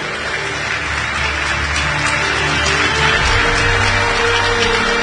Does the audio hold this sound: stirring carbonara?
no